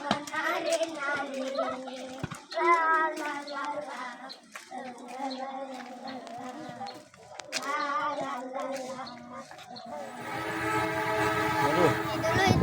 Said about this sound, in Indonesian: Tadi ada suara klakson kereta ya